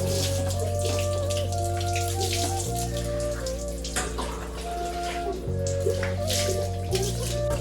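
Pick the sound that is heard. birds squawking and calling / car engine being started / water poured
water poured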